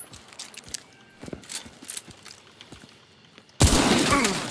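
Gunfire rings out in the video game Hunt: Showdown: scattered sharp shots and clicks, then a sudden loud, sustained burst of firing that carries to the end.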